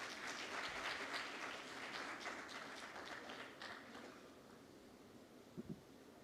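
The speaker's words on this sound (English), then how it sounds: "Let's give them a big round of applause once again." Dense audience applause at a maritime conference session on the Baltic Sea, a continuous wash of many hands clapping that fades gradually into a quieter tail, fairly distant and soft overall.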